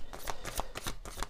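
Oracle cards being shuffled by hand, a quick series of close crisp riffling bursts in a steady rhythm, with no talking.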